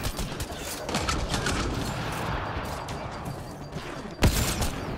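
Gunfire in the game Mass Effect Andromeda rattles in dense, rapid bursts that barely pause, loud and close, with one sharper blast standing out near the end.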